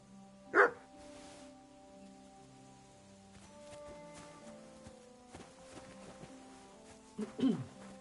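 A dog named Mutt gives two short barks, one early and one near the end, over a quiet, steady background of soft rain-like noise and faint sustained tones.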